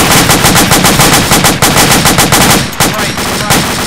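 Rapid automatic gunfire rings out during an infantry firefight in the military game Arma 2, loud and close, with dense bursts hammering on steadily before easing slightly near the end.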